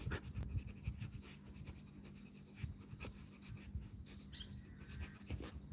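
A dog panting steadily up close, quick rhythmic breaths repeating throughout at a low, quiet level.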